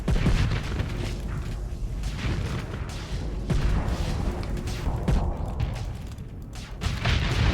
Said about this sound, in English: I took damage from that explosion.